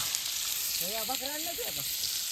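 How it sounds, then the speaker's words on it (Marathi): Fish frying in a pan gives a continuous crackling sizzle, with a voice briefly speaking over it midway. "हे बघा मच्छी आम्ही आता फ्राय करतोय"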